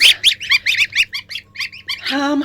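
A quick series of high, shrill peeps from goslings feeding, close and loud, ending in a longer squawking call.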